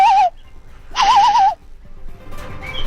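A man imitates a bird call with warbling, wavering whistled tones in two bursts, the second longer and louder, followed by quieter mixed studio noise.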